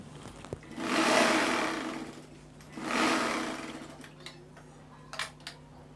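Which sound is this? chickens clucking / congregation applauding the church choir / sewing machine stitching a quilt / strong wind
sewing machine stitching a quilt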